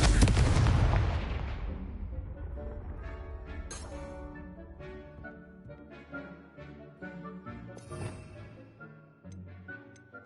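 A Confringo fire spell in Hogwarts Legacy erupts with a loud, booming blast at the start, then decays into a long ringing, crackling tail with scattered smaller pops and bursts.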